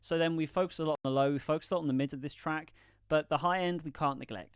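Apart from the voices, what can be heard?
No everyday noise stands out behind the speech.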